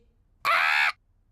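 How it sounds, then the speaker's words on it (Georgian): A cartoon parrot gives a single loud, harsh squawk lasting about half a second, sharp and close, alone in otherwise quiet surroundings. "პეპა, ჯორჯ, ეს ჩვენი თუთიყუშია"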